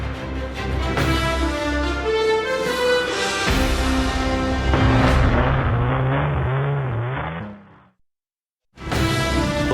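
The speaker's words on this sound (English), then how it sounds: "CCTV captures burnouts at a Maryborough hooning hotspot" A car doing burnouts at a Maryborough hooning hotspot, loud engine revving and roaring with screeching tyre noise that rises and shifts, then cuts off abruptly into near silence before the roar returns.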